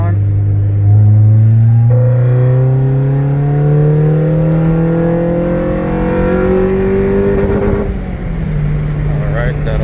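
A car engine in third gear climbs steadily in pitch as it revs up toward 3000 RPM on a data-logging pull, loud and close, then drops off sharply near the end.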